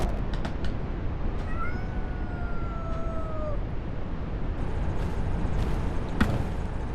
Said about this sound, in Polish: Kot wydaje się lubić twoją obecność